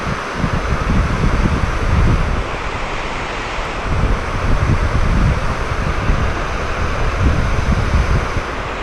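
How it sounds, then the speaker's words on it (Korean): Strong wind blows outdoors at a fishing spot, a steady loud roar with heavy gusty buffeting against the microphone, swelling and easing over several seconds with no speech. "어우, 바람 너무 많이 분다."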